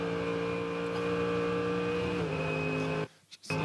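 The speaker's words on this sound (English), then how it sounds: "Just listening to the onboard of Maro Engel through Reed Park there." Onboard a GT race car at the Bathurst 12 Hour, Mount Panorama, the engine holds a loud, sustained flat-out drone through Reid Park, then cuts sharply near the end with a couple of brief bursts.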